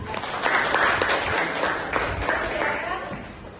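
Students in a classroom clap together in a steady, moderately loud burst of applause lasting several seconds, with a few voices mixed in.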